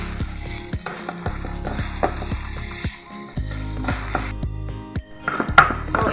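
Salted fried rice sizzles steadily in a pan while a utensil stirs and scrapes against the metal in irregular clicks and knocks, close and alone.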